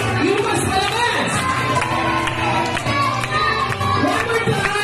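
Crowd of guests at a child's seventh birthday party clapping and cheering continuously, a dense steady wash of applause and shouting voices with a few children's cries rising above it.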